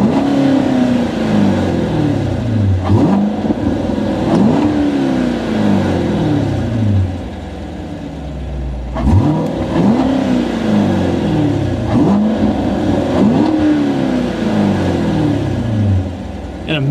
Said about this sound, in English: You can automatically hear the baffles open in the exhaust